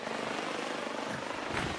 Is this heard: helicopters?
yes